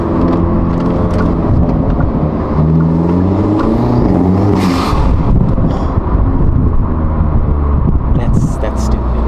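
A 2024 Hyundai Elantra N fitted with a new intake and blow-off valve, revving hard under load with a loud, steady engine roar and rising harmonics throughout, a burst of hiss midway, and a person speaking over it.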